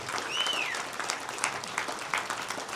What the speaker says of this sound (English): Let's give our gubernatorial candidates a big warm round of applause